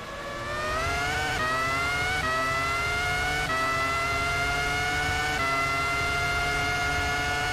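A race car accelerates hard around the Interlagos circuit, its loud, steady engine note climbing in pitch and dropping back at several gear changes, close and sustained throughout.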